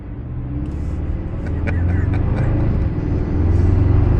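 A 2024 Toyota Tacoma pickup truck engine revving and accelerating, a low rumbling growl that builds in loudness, with brief bits of speech over it.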